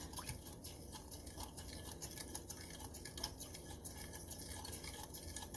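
A spoon stirs vanilla into a butter roll mixture in a bowl, a quiet, steady scraping and swishing at close range with faint clinks, no talking.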